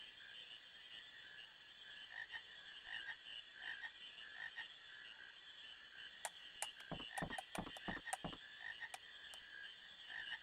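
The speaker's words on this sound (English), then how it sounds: "just chasing frogs, Quina" Frogs croak in a marsh area of Final Fantasy IX, a faint chorus of overlapping calls over a steady insect-like drone, with a quick run of sharper croaks in the second half.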